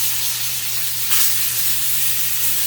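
Duck breast sizzles skin-side down while grilling, the fat rendering in a loud, steady, close hiss that barely changes, with a faint low hum underneath.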